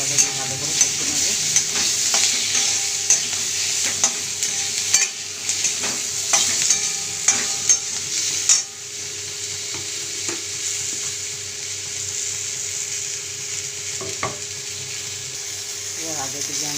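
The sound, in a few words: masala spices being stir-fried (koshano) in a pan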